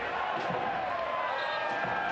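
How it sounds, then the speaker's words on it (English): A packed stadium crowd at a Tampa Bay Rowdies versus Pittsburgh Riverhounds soccer match keeps up a steady, dense roar and murmur throughout, with no clear peaks or breaks. "this crowd is absolutely buzzing"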